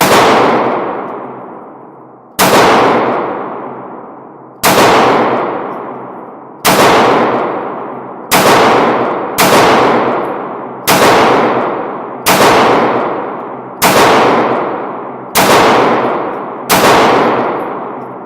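Taurus Millennium PT111 G2 9mm pistol fired at a range target 15 yards away: eleven loud, close shots, each with a ringing decay, spaced about one to two seconds apart with no talk.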